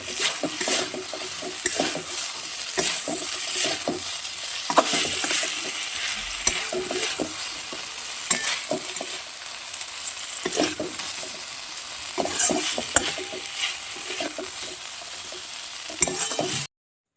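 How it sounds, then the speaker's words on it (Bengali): Fried chicken pieces being stirred into soy sauce in a hot pan, with a continuous sizzle under repeated scraping and clattering spatula strokes, close and steady throughout. "আর ভেজে রাখা চিকেনগুলো এর মধ্যে দিয়ে আবার ভালো করে একটু মিশিয়ে নেব।"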